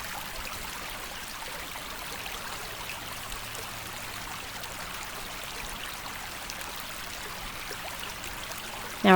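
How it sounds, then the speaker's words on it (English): White Clay Creek flows with a steady, soft rushing and trickling that holds constant throughout, heard alone without voices until a brief sound right at the very end. "Just listen to the creek"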